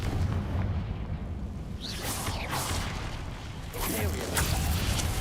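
In a Harry Potter video game, the Confringo blasting curse bursts twice in sharp explosive whooshes with booming tails, over a low game background and faint voice-like sound.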